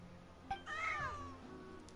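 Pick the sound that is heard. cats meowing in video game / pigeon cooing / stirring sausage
cats meowing in video game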